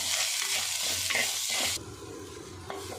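Mushroom masala with salt is stirred and sautéed in a pan, a loud sizzle with scraping spoon strokes that drops suddenly to a quieter frying hiss, followed by a couple of soft utensil knocks.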